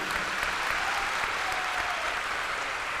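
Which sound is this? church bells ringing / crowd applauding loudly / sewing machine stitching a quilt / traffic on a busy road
crowd applauding loudly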